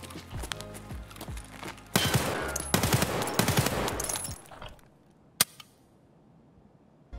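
Rapid automatic rifle fire in a first-person survival shooter game, bursts of close, sharp shots rattling for a few seconds before stopping, followed by a single isolated report.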